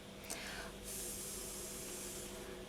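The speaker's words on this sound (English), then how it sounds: "Just give a quick spray." A quick burst of spray misting onto a polymer clay pendant, a soft hiss that swells and holds for about two seconds, close and alone.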